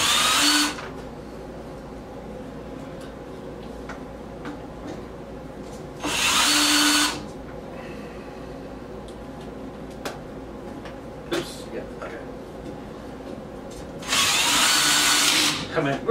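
A cordless power drill drives bolts into a bathroom storage rack during assembly, whirring in three separate bursts of about a second each, close and loud, with quiet talk and handling noise in the gaps.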